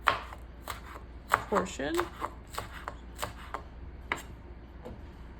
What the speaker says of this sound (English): your green stemmy portion you can chop up as a decorative